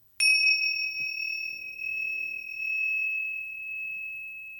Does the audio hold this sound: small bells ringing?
yes